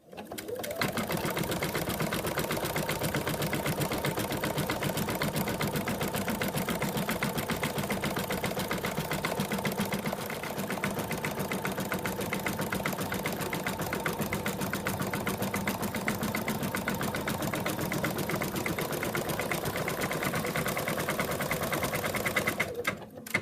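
Embroidery machine stitching the final outline color of a design, a steady fast mechanical chatter of the needle running continuously and fairly close, with no speech.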